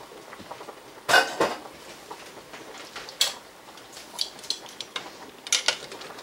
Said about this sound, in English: So I'm gonna mix that meat in with the sauce